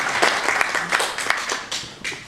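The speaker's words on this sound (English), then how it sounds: "Let's have a round of applause for our" Audience applause for volunteers coming up on stage, a short burst of moderate clapping from a room of people with distinct hand claps audible, fading toward the end.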